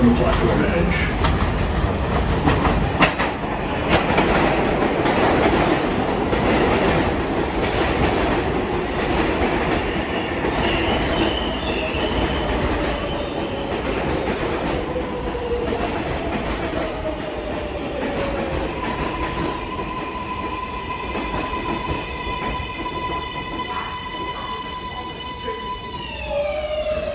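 An R188 7 local subway train rumbles steadily into an elevated station at 33rd Street–Rawson Street during morning rush hour, with wheel screech and rising motor whine as it slows, and a platform announcement heard over the noise.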